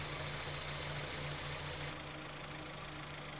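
A Volkswagen engine idles steadily under the bonnet after being started with the breather hose disconnected, a continuous close mechanical hum with a slight knock and a small shift in tone partway through.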